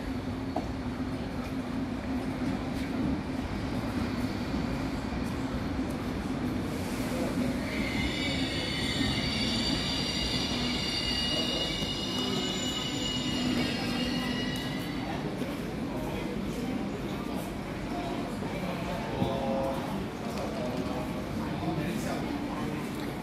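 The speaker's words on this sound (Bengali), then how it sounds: "এটা হলো স্টেশনের ভিতরে, এই যে ট্রেন" A train pulls into Venezia Mestre station, a low rumble with a bright metallic wheel squeal rising in the middle, echoing under the station roof amid crowd noise and nearby talk.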